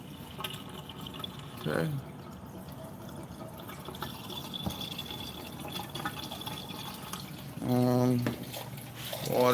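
Water gushing and splashing from a newly switched-on pump into a tank, coming in short bursts with dripping between them, as a voice speaks briefly nearby.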